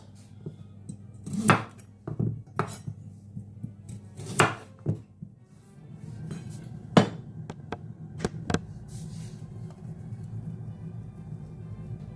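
Knife chopping cabbage and carrots on a cutting board while preparing Jamaican cabbage soup, with sharp irregular thuds and clacks, some loud and close, spaced unevenly, then faster lighter taps over a low steady hum.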